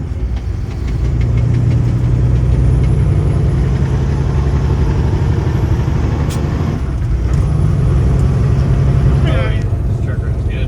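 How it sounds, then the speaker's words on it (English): A Kenworth W900 truck engine runs steadily with a deep, loud rumble and faint hiss, close by, while people talk over it. "This truck runs good."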